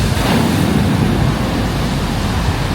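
Steady, loud rush of water pouring over slippery rocks in Taiwan, a continuous broadband roar heard close and without a break for the whole stretch, with no talk over it.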